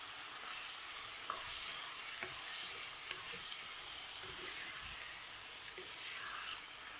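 Pork pieces fry uncovered in a pan, giving a steady, close, bright sizzle with occasional soft stirring scrapes and crackles throughout, and no talking.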